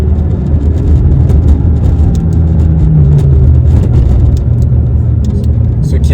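A McLaren 570S sports car drives along with its engine holding a loud, steady, close drone throughout, with no one speaking.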